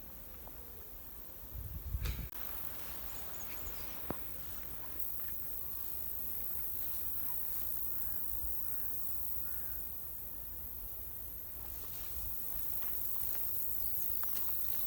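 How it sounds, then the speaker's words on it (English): A crow caws a few times in the distance over a quiet outdoor background with faint insect hiss. "Sound do crows make, Cedar?"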